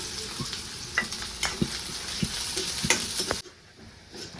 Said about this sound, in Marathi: आता आपल्याला हे कांदा चिरलेला तेलामध्ये तळून घ्यायचा